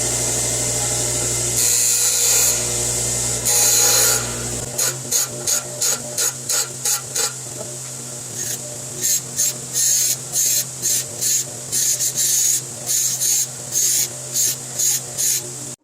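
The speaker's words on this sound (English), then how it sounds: "I'm just going to weld that on" Steel pipe being tack-welded for a Christmas tree stand, clamped in a vise: a steady buzzing hum at first, then a long run of short crackling wire-feed welding bursts in a quick, even on-off rhythm, close and loud.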